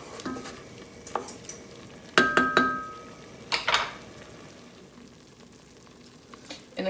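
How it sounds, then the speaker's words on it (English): Mulberry jam simmering in a pot while a spoon stirs the berries: a soft bubbling background with several sharp metallic clinks and scrapes against the pot, close and clear. "And I'm just going to move the berries around a bit."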